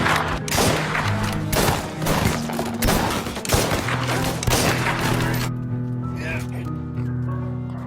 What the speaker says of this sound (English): so I get a rifle and kill a few